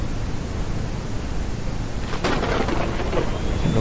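Heavy rain hisses steadily in the Ranch Simulator game, and partway through a loud crack of thunder breaks over it and rumbles on under the downpour.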